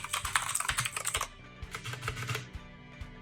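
Typing on a T-Dagger Bora mechanical keyboard with blue switches: a quick burst of crisp clicky keystrokes, then a slower scattered run of clacks, close and clear with no talking.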